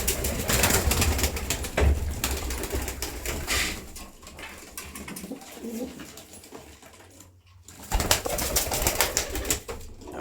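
Pigeons at a breeder's loft, including pure-taar pigeons, with a cooing, bird-heavy din and occasional wing flaps, fairly loud and continuous with a brief lull near the end.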